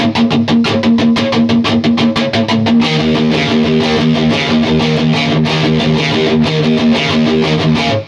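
Heavy, thumping metal riff on distorted electric guitar played with alternate picking, loud and continuous with rapid evenly spaced picked notes over a sustained low chug.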